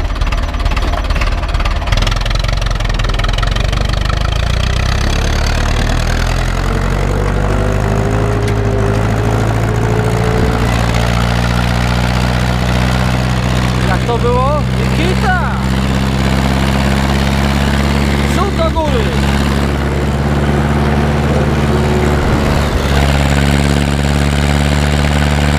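An Ursus tractor engine runs steadily, loud and close, during a wood-hauling trip; a deep, throbbing drone rises in pitch as it revs and pulls away, with occasional clanks over the constant rumble.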